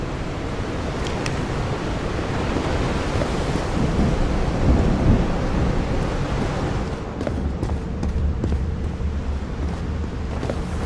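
Thunderstorm in the video game Call of the Sea, with a steady roar of rain and wind and deep rolling thunder that swells midway, then a few sharper crackles toward the end.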